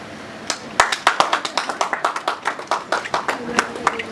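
Audience at an award acceptance speech clapping in a loose, uneven burst of sharp hand claps, fairly close and moderately loud, with a faint voice underneath.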